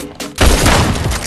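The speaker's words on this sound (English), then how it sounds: "People are shooting me from behind too." Video game gunfire erupts in a sudden loud burst of rapid shots after a brief quieter moment, continuing densely to the end.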